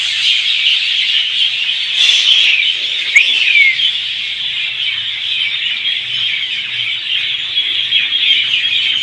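A large flock of birds chirps and squawks in a dense, continuous, high-pitched chorus at evening, with a few sharper calls standing out above the steady twittering.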